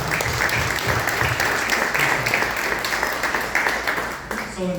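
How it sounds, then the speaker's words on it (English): Lively audience applause at the FAST Fest 2023 press night, full and close clapping from a sizable crowd that holds steady before tapering near the end, with a faint voice underneath. "give me a round of applause"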